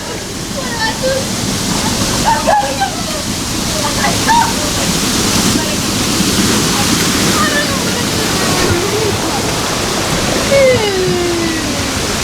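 A river in Australia rushes loudly and steadily past a crossing point, a constant close roar of water, with someone speaking over it at times.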